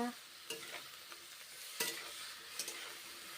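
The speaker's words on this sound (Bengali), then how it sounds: "ভেজে রান্না করছি ফুলকপি করলা পেঁপে কাঁচা কলা" Cauliflower, bitter gourd, papaya and green banana frying in a pan, with a soft steady sizzle and a few sharp scraping stir strokes, fairly faint, no talking.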